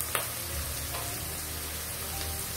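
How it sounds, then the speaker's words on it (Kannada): Onions fry in a pan for uppittu, giving a soft, steady sizzle at low level with a small clatter near the start, and no one speaking. "ಇದನ್ನು ಅಷ್ಟೇ ಸ್ವಲ್ಪ ಚೆನ್ನಾಗಿ ಫ್ರೈ ಮಾಡ್ಕೊಳ್ಳೋಣ."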